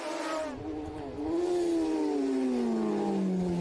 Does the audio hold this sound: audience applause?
no